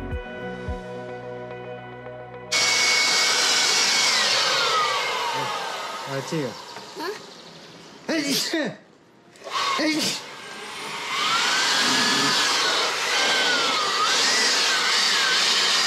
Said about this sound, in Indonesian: Ngeblower itu biar debunya hilang.